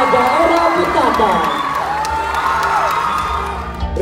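Loud crowd cheering and whooping with applause at the Mr. Kaamatan 2019 pageant in Sabah, a dense continuous roar that holds steady throughout, with voices shouting within it.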